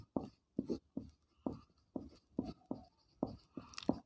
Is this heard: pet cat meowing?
no